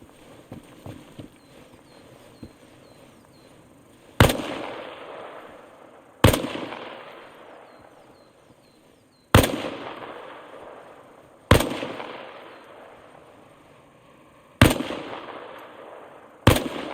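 Single sharp rifle shots crack at intervals of about two to three seconds during an Arma Reforger tutorial on a PlayStation 5, each loud report followed by a long echoing tail over a quiet background.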